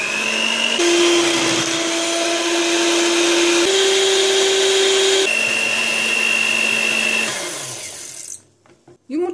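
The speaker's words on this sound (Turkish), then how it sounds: "5 dakika çırpıyorum." An electric mixer whisks room-temperature eggs with sugar in a mixing bowl, a loud steady motor whine that shifts pitch as speed changes, then winds down and stops near the end with a few clacks.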